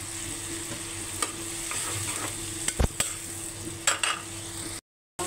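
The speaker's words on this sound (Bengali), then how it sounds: "কষানো শেষ, উপরে তেল উঠে আসছে" Turmeric and chili powder spices sautéing in hot oil in a pan, a steady sizzle with occasional stirring scrapes and clinks, close and moderately loud, no talking.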